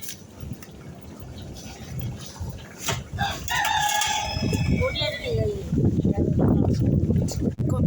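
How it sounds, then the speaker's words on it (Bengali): A rooster crows loudly nearby, its long call rising and falling amid clucking fowl, with a voice talking and wind noise around it. "এখানে কতগুলো মোরগ আছে মুরগি আছে"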